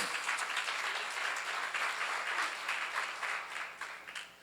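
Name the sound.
congregation applause at a seminar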